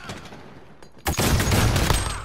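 A Modern Warfare gunshot rings out after a quiet moment, a sudden loud crack followed by a dense burst of gunfire and echoing rumble.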